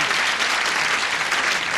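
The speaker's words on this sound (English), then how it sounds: "Applause, applause, applause." A burst of studio audience applause on a game show, dense and steady clapping from many hands, loud and close throughout.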